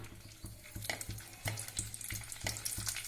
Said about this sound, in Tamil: வடகம் நல்லா பொரியட்டும்